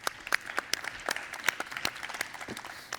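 Scattered applause from a panel discussion audience, sparse, distinct claps at moderate distance, steady for a few seconds with no talk.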